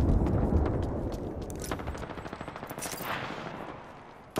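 Rapid bursts of automatic gunfire in Apex Legends crackle in a dense, close volley, then thin out into scattered shots with a sharp pop at the end.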